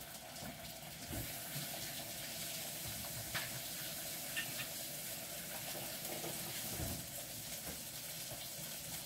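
Hands being washed under a running kitchen tap, a steady close hiss of flowing water with soft splashes and rubbing, no voices.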